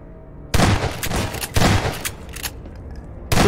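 Gunfire in a Garry's Mod horror game: loud, sharp bursts of shots in several clusters separated by brief pauses, close and dominant, with no talking.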